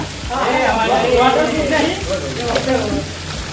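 Heavy rain pours down on a road trip route near the Kattidham Hanuman temple, a dense, steady hiss and patter that stays loud throughout, with voices faintly mixed in.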